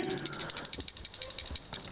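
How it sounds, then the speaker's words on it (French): A bell rings rapidly and continuously, a bright metallic trill held loud and close for the whole stretch. "Arrêtez cette maudite cloche, on ne s'entend plus."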